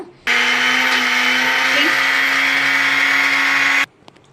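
A kitchen mixer grinds sesame into powder for jaggery sesame balls, starting abruptly and holding a loud, steady high whir for about three and a half seconds before cutting off.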